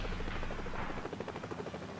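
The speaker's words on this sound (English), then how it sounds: "Quantico is home to the helicopters known as Marine One" Marine One presidential helicopter of Marine Helicopter Squadron 1 (HMX-1) at Quantico, a loud continuous rotor thrum with pulsing blade chop and turbine whine, close and steady throughout with no talk.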